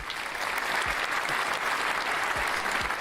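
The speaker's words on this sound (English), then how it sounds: "So round of applause once again for Scuba Steve, please, Dubtown." Steady applause from a live podcast audience fills the whole stretch at an even, fairly loud level, with a few low thumps scattered underneath and no voices rising above the clapping.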